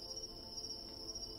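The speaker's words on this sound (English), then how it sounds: "You can even hear the crickets singing their songs too." Crickets chirp in a forest at night, a steady high-pitched trill running without pause through the whole stretch, faint and distant with no voices.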